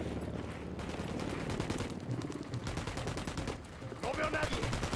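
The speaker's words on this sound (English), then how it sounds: "I'm shooting these fuckers." Rapid automatic gunfire in the tactical shooter game Tom Clancy's Ghost Recon Wildlands, dense rattling bursts that go on almost without pause, with brief gaps between volleys and voices faintly underneath.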